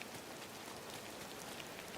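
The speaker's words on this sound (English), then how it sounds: "Still raining." Steady rain in the video game Disney Dreamlight Valley, an even wash of patter that stays constant and fairly faint throughout, with no voices.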